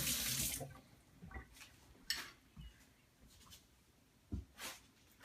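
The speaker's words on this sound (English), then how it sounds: "Rinse that out again." A measuring utensil is rinsed under a kitchen tap while cilantro is being measured, with a short rush of running water at the start followed by scattered clinks and handling noises nearby.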